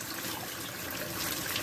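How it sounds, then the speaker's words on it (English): Tap water runs steadily into a bucket, rinsing ground-up DDR2 and DDR3 memory chip material for gold recovery, a continuous close trickling and splashing with no talk. "basically now I just let the water run until it's clear"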